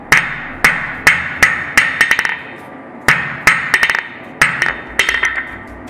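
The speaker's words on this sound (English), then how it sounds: "It starts to buckle, twist, flatten it on the face of the anvil." A smith hammers a hot steel penny-end scroll flat on the face of an anvil. Sharp metallic strikes fall in bursts, a few spaced blows followed by quick bouncing rebound taps, repeated three times, loud and close.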